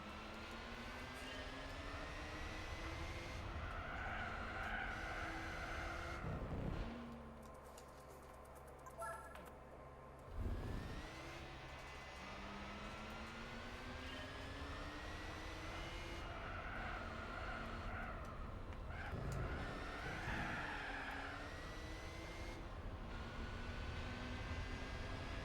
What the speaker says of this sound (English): Oh, we're driving an RX-8.